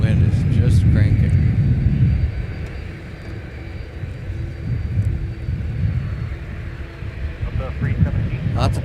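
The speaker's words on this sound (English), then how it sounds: "that wind is just cranking" Strong, steady wind roars and rumbles across a microphone at an airport, loud and continuous with gusty low buffeting, heaviest at the start and easing a little after.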